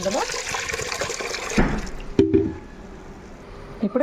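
Water poured into a pot of washed green gram lentils, a close gushing splash that stops abruptly, followed by a few light clinks and drips.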